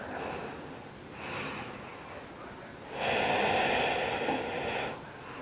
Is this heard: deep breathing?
yes